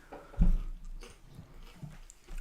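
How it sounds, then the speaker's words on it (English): Crunching bite of food close to the mic during a live football watchalong, one loud crisp crunch followed by fainter chewing. "Is this too loud crunching?"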